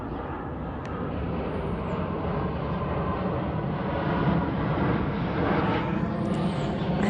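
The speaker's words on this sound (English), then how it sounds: "we live close to the base, and the airplanes fly over so low" Low-flying airplane passing near an air base, a steady, broad engine roar that fills the whole clip and swells slightly louder toward the end, with no talking.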